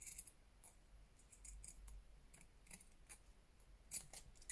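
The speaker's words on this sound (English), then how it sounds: "I'm going to trim that through" Scissors snip through paper while an envelope notebook is trimmed, a series of quick, irregular cuts close by against a quiet background with a faint low hum.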